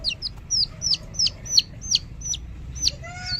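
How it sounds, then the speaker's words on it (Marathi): Young chicks peep repeatedly, about ten sharp high chirps in a loose, steady rhythm, fairly close, with a faint low hum beneath. "खूप असं चिव चिवचिव चालली आहे त्यांची"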